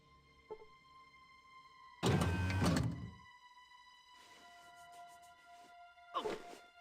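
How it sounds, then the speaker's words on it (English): Fallout 2 doors sliding open: a sharp mechanical whoosh and clank, then a softer grinding slide and a final short thunk, over a steady electronic hum. "so all those doors opened up"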